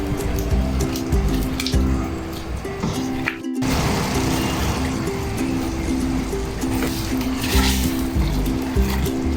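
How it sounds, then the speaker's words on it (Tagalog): Water poured into a pan of pancit cooking on the stove, a steady splashing, running pour with a faint sizzle, close and continuous for several seconds with no talk. "lagyan na natin ng tubig"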